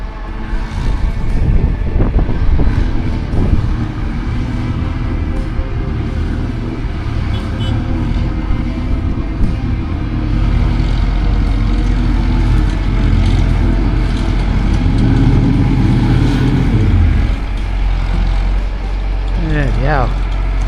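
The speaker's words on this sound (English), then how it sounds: "how deep can that tractor go?" A tractor engine runs steadily through, a continuous low rumble with wind buffeting the microphone, and people speak over it.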